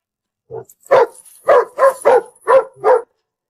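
A dog barks six times in a steady, evenly spaced series, loud and close, with no talk over it, in a 1980s village setting.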